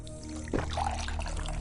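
Water poured into a glass for drinking, a short splashing trickle rising out of a steady low hum, close and moderately loud.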